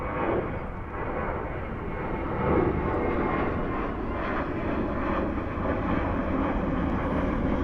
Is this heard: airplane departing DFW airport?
yes